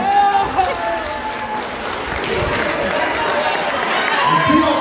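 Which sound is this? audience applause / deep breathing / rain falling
audience applause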